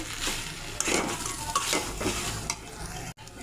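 Fried fish heads get stirred into a thick cabbage ghonto, a close sizzling hiss with repeated spatula scrapes and clinks against the pot, ending in a brief cut.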